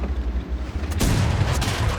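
A tank cannon fires in a tank video game, with a sharp heavy boom about halfway through and a lighter following report over a constant rumbling engine and battle background.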